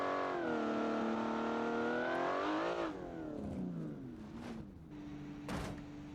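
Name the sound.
Gordini T23S car engine revving in video game BeamNG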